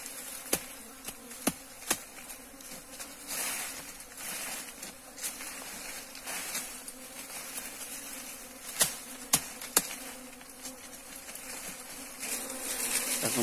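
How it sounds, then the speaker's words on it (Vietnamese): Dense, continuous buzzing from a large swarm of drone bees as a colony splits, a loud steady drone filling the air with sharp clicks and taps scattered through it. "Rất là nhiều ong được."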